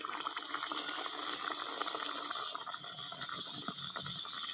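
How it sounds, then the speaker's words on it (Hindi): Samosas frying in hot ghee make a steady bubbling hiss that grows slightly louder, close and continuous with no voices. "अब हमारा घी भी गर्म हो चुका है, तो इसमें समोसे डाल दूंगी"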